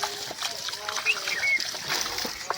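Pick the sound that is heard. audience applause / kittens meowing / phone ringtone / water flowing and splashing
water flowing and splashing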